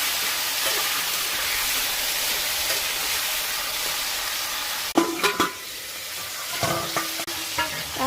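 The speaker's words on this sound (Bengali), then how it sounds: "তারপর আলুটা একটু সামান্য নুন দিয়ে ভালো করে নাড়াচাড়া করে ভেজে নিচ্ছে।" Potatoes fry with a little salt in a pan, a loud steady sizzle close by, then spatula scrapes and stirring knocks break in over the last few seconds.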